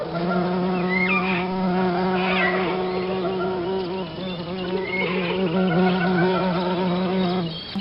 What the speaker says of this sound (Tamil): அட, மின்மினி பூச்சி.